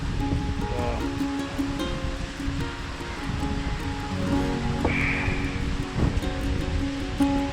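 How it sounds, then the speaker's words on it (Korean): Ocean waves wash onto a quiet, empty beach in Zanzibar, a steady soft surf hiss with faint rustling, moderately distant and without talk. "그냥 딱 파도 소리만 딱 들리는 게 최고다"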